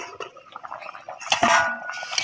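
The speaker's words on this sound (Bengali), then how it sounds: "ঢাকাটা একটু খুলবো" A metal pot lid clatters open and a spoon scrapes and stirs vegetable curry of potatoes and tomatoes simmering in a pan, a short burst of close, clinking kitchen noise.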